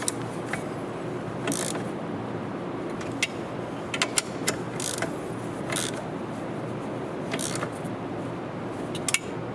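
A ratchet fitted with an 8mm socket works a Volvo battery terminal bolt. Faint, irregular clicks and small metallic taps sound up close against a steady low hum.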